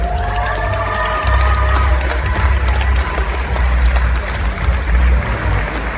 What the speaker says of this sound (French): Et j'aimerais qu'on applaudisse aussi ça.